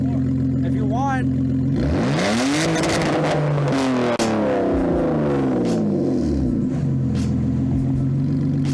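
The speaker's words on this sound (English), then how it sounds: "Rev it a little." A car engine with a straight-pipe or muffler-deleted exhaust revs hard from idle, climbing and falling in loud, raspy sweeps with a rumbling idle before and after, while voices talk over it.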